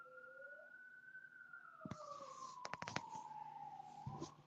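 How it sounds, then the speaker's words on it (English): Police sirens wail faintly in the distance with a slow rising and falling tone, while clicks and knocks sound nearby. "Wow, sirens, a lot of shit."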